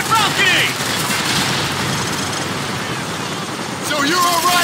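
Sustained gunfire in a Call of Duty 4: Modern Warfare firefight, a steady loud wash of shots with game voices and radio chatter over it.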